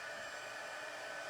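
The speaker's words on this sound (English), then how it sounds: "So I'm gonna grab my heat tool and just heat this up quickly." An embossing heat tool blows steadily over silver embossing powder for holiday treat packaging, giving a quiet, even airy hum that runs unbroken throughout.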